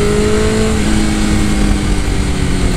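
Loud, close Suzuki GSX-R 1000 (2001) sport motorcycle engine droning at high revs, steady and strained with a slight rise in pitch, no voices.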